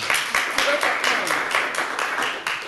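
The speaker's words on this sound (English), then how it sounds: "We don't usually allow applause in here, but I think everybody felt pretty good about that." Audience applause breaking out after a poem is read at a city council meeting, a dense wash of clapping from a roomful of people, steady and fairly loud throughout with no talking over it.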